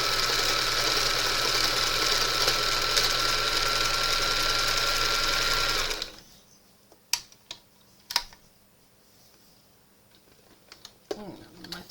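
A vintage JCPenney 0104 heavy duty sewing machine runs fast and continuously for about six seconds while sewing a stretch stitch, then falls quiet apart from a few sharp clicks and light handling sounds.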